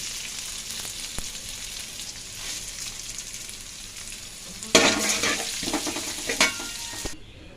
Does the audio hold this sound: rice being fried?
yes